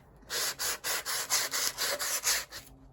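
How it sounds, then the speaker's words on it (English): Rhythmic sanding strokes rasp against the edge of a wooden goblet, about ten quick back-and-forth passes in steady succession, close and fairly loud. "Equal sanding on each edge is very hard to achieve on a round object."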